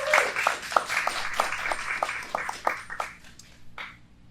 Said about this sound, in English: let's kick things off with giving a big round of applause to the designers who showcased last night at the 4th annual Gullah Gala